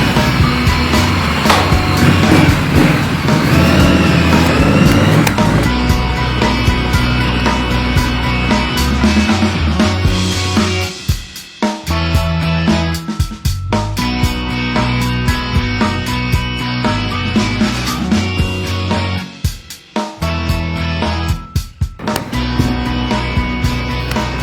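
A street legal dirt bike rides through town, its engine droning steadily close by with revving shifts and brief throttle drops, loud and continuous without talk.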